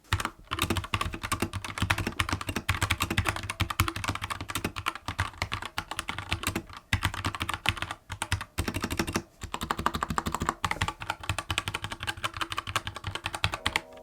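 Rapid, continuous typing up close on a Keychron K2 mechanical keyboard, a steady clatter of crisp key presses with brief pauses, no voices.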